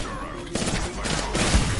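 Video game gunfire, a quick loud burst of overlapping shots filling less than two seconds, with a player's excited voice mixed in.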